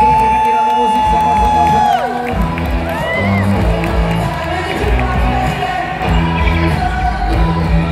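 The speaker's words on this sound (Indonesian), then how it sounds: "Kita tepuk tangan." Crowd at a dolphin show at Dufan Ancol, cheering, whooping and shouting loudly throughout, with a voice over a loudspeaker talking and a short whistle-like tone near the start.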